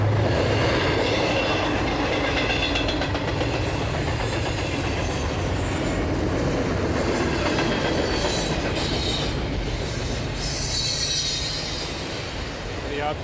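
A train rolls past on railroad tracks, loud and steady for the whole stretch with rumbling wheels and squealing, no voices.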